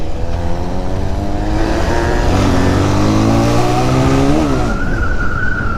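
A Benelli TNT 300 motorcycle fitted with an Akrapovic exhaust revs loudly and close by, its engine note climbing and sweeping upward in pitch before easing off and rising again, with a steady rumble throughout.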